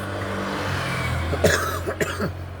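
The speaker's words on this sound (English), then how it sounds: "It's like I've got a double cough at the moment." Two or three short, sharp coughs break through over a steady engine-like drone, close by and moderately loud.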